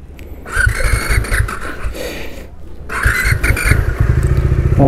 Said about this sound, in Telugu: బైక్ బీటింగ్ మొత్తం చేంజ్ అయింది